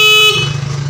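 A car's stock horn gives one short, loud, bright blast during a wiring test, cut off abruptly and followed by a low engine hum.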